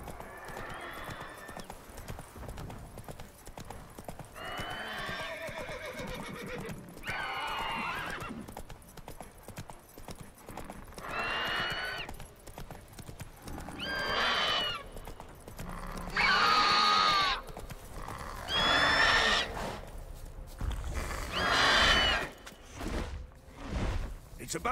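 Roach the horse galloping in The Witcher 3, hoofbeats running under frequent snorts and whinny-like calls, with game voices and effects rising and falling over them.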